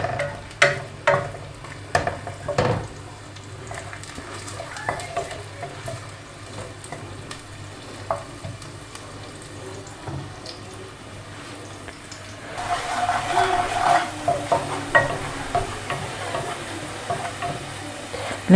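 Sliced onions fry in a pan while a spoon stirs and scrapes them, making sharp knocks early on and then a steady sizzling hiss that swells louder near the end, with no talking.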